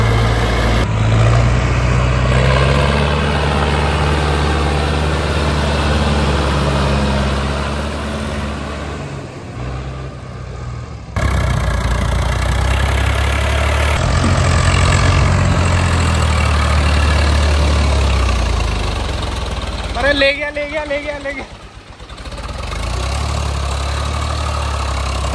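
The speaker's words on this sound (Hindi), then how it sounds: "तो भाई साहब ट्रैक्टर आ चुके हैं" A Mahindra Arjun NOVO 605 4WD tractor idles close by outdoors near muddy ground, a loud steady low diesel rumble that runs throughout, with brief dips and a short higher-pitched mechanical whine near the end.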